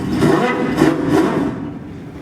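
A Ferrari car engine from the early-to-mid 1990s starting up, a loud, close burst of cranking and revving pulses that fades off after about a second and a half, with no talk.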